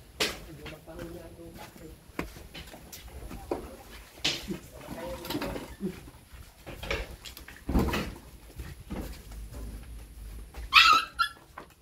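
A puppy whimpers and yips in short, scattered cries during a forced evacuation ahead of Typhoon Uwan, mixed with people talking nearby and occasional knocks and clatter.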